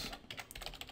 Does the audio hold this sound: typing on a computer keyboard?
yes